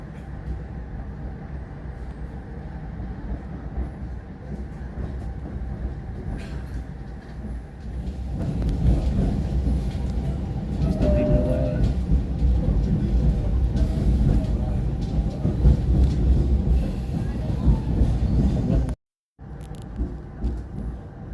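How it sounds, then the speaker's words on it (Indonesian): The KA Tawang Jaya economy train rumbles and clatters steadily while running, growing louder partway through, with a sudden brief dropout near the end. "kereta ekonomi New Image ini kesannya selalu berisik dengan suara gemblodaknya"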